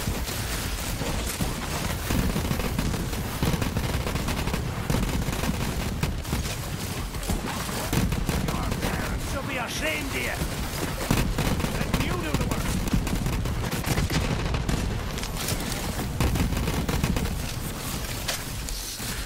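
Rapid, dense gunfire from the Flakker legendary shotgun in the Borderlands 3 video game, a continuous loud barrage of blasts and explosions with a voice speaking underneath at times.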